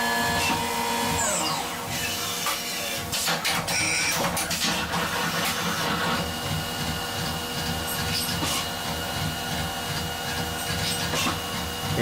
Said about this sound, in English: We're just spotting it with the drill.